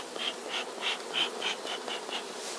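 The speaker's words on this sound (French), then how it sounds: "ça fait donc 1 heure qu'on a laissé les abeilles remonter ici" Honey bees at a hive in a beekeeping setting make a faint, steady buzzing hum, with individual bees whining past in a quick series of brief swells, no voices.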